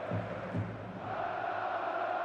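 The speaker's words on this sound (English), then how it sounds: "Maybe the singing that you can hear" Stadium crowd at a German third-division football match between Dynamo Dresden and Jahn Regensburg, a steady distant roar of massed fans singing and chanting, continuous and even throughout.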